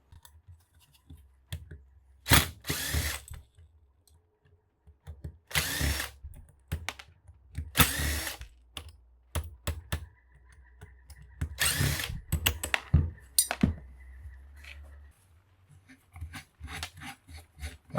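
A power drill backs the screws out of a bracket on a scrapped ceiling fan, sounding in several short, loud bursts separated by quiet handling clatter and faint tool noise.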